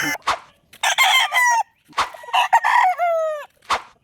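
Several chickens cluck and a rooster crows loudly nearby, with short calls between two drawn-out crows.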